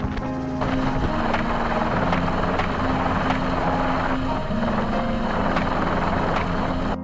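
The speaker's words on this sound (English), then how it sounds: "Helicopters continuously flew over heavily affected zones to monitor from above." A helicopter flies overhead with a loud, continuous rotor thump and engine whine that holds steady throughout, with no talking.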